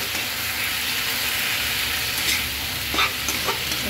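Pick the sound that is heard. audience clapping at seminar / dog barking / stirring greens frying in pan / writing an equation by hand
stirring greens frying in pan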